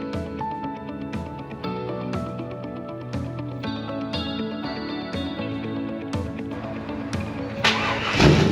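A car engine cranks and revs in loud, regular bursts about once a second over a steady running drone, swelling into a harsher, louder rev near the end.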